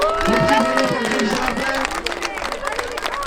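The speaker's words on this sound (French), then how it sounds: "On les applaudit bien fort." A crowd at a youth under-11 football tournament applauds and cheers, with busy clapping and calls under a loud, cheerful background voice.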